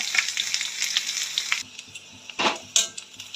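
Chopped onion and garlic fry in hot oil with a bay leaf and dried chillies, a loud bright sizzle that drops to a quieter crackle, broken by a couple of clanking stirs.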